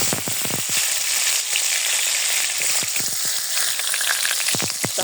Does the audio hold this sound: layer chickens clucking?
no